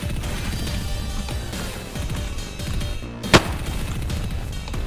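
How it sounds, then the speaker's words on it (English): A single sharp, loud gunshot crack rings out in the video game DayZ, cutting briefly through a dense, steady wash of in-game sound. "I heard shots fire."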